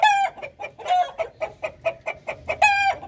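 Chickens cluck in a steady run of short, evenly spaced calls, with a rooster's loud, drawn-out crow at the start and another near the end; close and fairly loud on a home farm.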